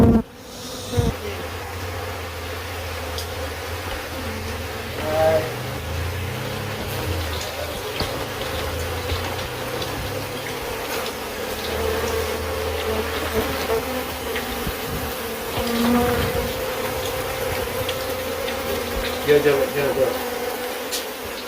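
Bees swarming around a nest being pulled apart, a dense continuous buzzing of many insects close by for the whole stretch, with occasional knocks and handling noises and some voices underneath.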